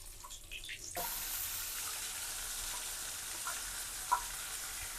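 Ground green chilli masala drops into hot oil for a homestyle green chilli chicken, bursting into a sudden loud sizzle that settles into steady crackling frying, with a few small clinks.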